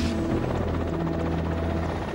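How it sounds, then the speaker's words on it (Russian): Russian air force helicopters flying over central Kazakhstan, a steady loud rotor drone with low thumping harmonics that holds throughout, with no voices. "вертолеты российских воздушных сил распределились по центральному Казахстану"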